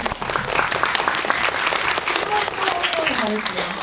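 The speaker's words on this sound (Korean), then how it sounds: "감독님께 한번 박수 부탁드리겠습니다" An audience at a post-screening talk for the film Dolphin applauds the director, with dense, steady clapping from a large crowd that fills the whole stretch, and a faint voice passes underneath.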